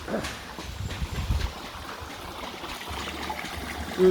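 A stream flows near a waterfall in Mayana, a soft, continuous trickling and rushing wash heard up close, with a few brief low bumps and rustles mixed in.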